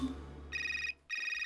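Phone ringtone in an animated show, a bright electronic melody ringing in two bursts with a short gap between them, loud and close over a faint low background hum.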